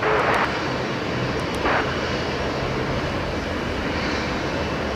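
Aircraft engine roaring at Brisbane Airport in the evening, a steady broadband jet roar held for several seconds at moderate distance, with a few brief brighter bursts near the start.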